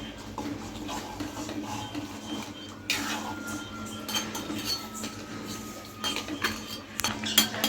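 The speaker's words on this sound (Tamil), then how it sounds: "இப்போ நல்லா நண்டை மிக்ஸ் பண்ணிகிட்டே இருக்கோம்." Crab curry is stirred in a pot with a metal utensil, producing repeated close clinks and scrapes against the pot, loud and irregular, over a low steady background hum.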